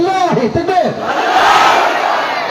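A single voice calls out a takbir, and a large crowd at an Islamic waz mahfil gathering answers with a loud, sustained collective shout.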